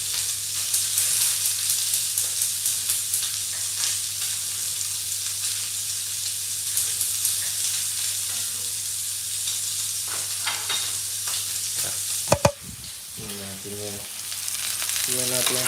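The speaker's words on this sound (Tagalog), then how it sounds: "hayaan lang natin siyang kumulo for hanggang sa maluto siya" Pork binagoongan in coconut milk sizzles and simmers steadily in a pan, with brief clattering stirs of a utensil near the end; no talking.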